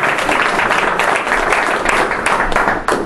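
An audience at a school district task force meeting applauds the superintendent's introduction, with dense, close clapping that holds steady and tapers off near the end.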